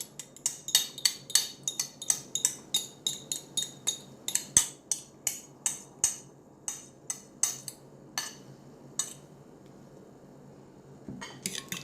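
Eggs being whisked into melted butter in a bowl, giving a quick run of sharp utensil clinks against the bowl, steady and close at first, then thinning to a few scattered taps.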